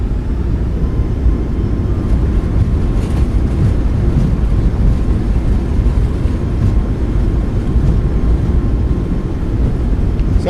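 Thrust reversers on a Boeing 737 MAX 8 airliner landing in the iFly MAX8 flight simulator, a steady, loud, broadband roar that holds constant throughout with no talking.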